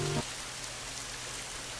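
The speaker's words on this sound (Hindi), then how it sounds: "बारिश आ रही है, वो भी काफी तेज।" Heavy rain pours steadily in a Hindi animated cartoon, a dense hiss throughout.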